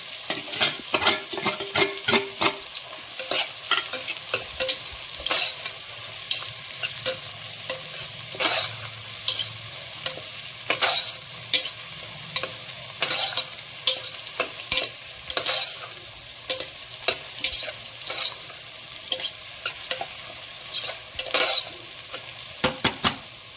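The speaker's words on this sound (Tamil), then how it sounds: "இந்த இஞ்சி பூண்டு தட்டி வச்சதையும் சேர்த்து வெங்காயத்தோட வதக்கிக்கிறோம்." Onions sautéing in a pan with crushed ginger and garlic for Chinthamani chicken, a steady close sizzle broken by frequent sharp scrapes and clinks of a spoon stirring against the pan, with no talking.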